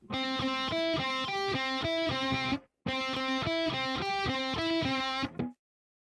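A distorted electric guitar plays a chugging, repeated riff in two nearly identical phrases separated by a brief pause, loud and close.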